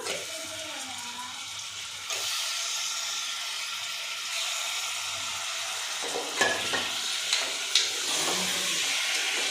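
Mutton goes into a pan of well-fried onions and sizzles steadily and loudly up close, with stirring scrapes and a few knocks of a utensil against the pan.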